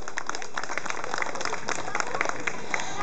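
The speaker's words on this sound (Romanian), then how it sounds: "Haideți să auzim mai multe aplauze." Audience applause for children performing at a summer outdoor hat carnival, a steady patter of many hands clapping throughout at moderate volume with some crowd noise.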